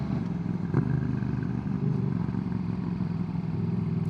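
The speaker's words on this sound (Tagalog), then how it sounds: "Ganda ng tunog ng motor ni Patrick." Patrick's motorcycle engine runs steadily with a low mid-pitched drone on an adventure ride route along a cliffside road, with a brief clatter near the start and a slight rise at the end, no talking.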